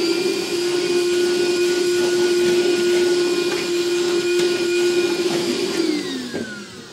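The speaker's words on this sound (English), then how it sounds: "Go ahead and vacuum up our shavings." Shop vacuum sucking up metal drill shavings beneath a 2015 Chevrolet Silverado during a B&W fifth-wheel hitch rail install, a loud, steady close whine that runs throughout and tapers slightly at the end.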